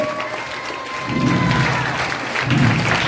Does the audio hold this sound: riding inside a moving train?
no